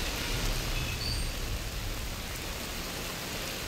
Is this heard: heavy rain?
yes